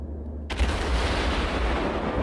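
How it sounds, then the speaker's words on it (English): A naval gun salvo from the heavy cruiser Atago in World of Warships, one sudden loud blast followed by a sustained roaring rumble that fills the rest of the moment. "There's another salvo"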